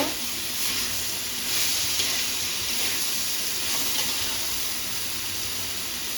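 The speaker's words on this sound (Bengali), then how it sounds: "এখন সবজিগুলো নাড়াচাড়া দিয়ে নেবো" Mixed vegetables fry in a pan for a vegetarian dish while being stirred, giving a loud, continuous close-up sizzle and hiss with soft stirring sounds beneath it.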